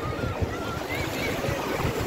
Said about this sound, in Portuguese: aqui a onda já veio mais forte